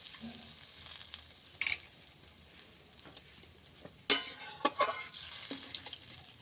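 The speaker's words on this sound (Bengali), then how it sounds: "ঝোলটা ফুটে গেছে, এবার মাছগুলো এক এক করে ছেড়ে দেবো" Bata fish curry broth boils in a pan with a soft bubbling hiss, broken by short louder bursts of sizzling and spattering near the middle of the clip.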